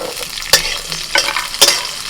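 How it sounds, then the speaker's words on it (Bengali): Ginger and garlic fry in a pan with a loud, steady sizzle, punctuated by three crisp scrapes of a spatula stirring them. "আদা রসুনটা একটু ভাজা হয়ে গেলেই দিয়ে দিচ্ছি পেঁয়াজ কুচি"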